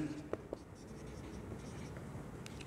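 Chalk or marker writing on a board during an eighth-grade maths lecture on direct and inverse proportion, faint scratchy strokes with a couple of sharp taps in a quiet room.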